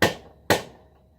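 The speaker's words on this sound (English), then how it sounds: "I'm going to try to stick the punch against it and tap it out the other side." Two sharp metallic hammer blows on a punch, about half a second apart, each ringing briefly, struck against a stuck pipe on a 250cc TaoTao ATV in a home workshop, close and alone.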